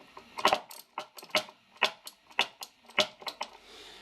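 A hand ratchet clicks in quick, uneven bursts while loosening the mounting bolts on a car's starter motor, the sharp pawl ticks close and fairly quiet with no talking.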